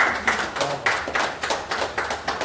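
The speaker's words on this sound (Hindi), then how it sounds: "तो जोरदार तालियों से उनका स्वागत करें।" A small group claps in welcome, a close run of loud, rhythmic hand claps at a steady, slightly uneven pace, with no talk over it.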